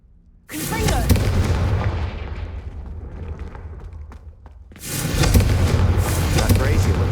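A Confringo spell explosion in a video game, a sudden loud blast that rumbles and fades over a few seconds before a second heavy burst roars up, with a voice briefly underneath.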